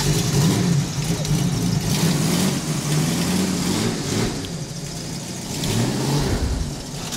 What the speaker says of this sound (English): You can feel the power of the Predator ride truck as we start up.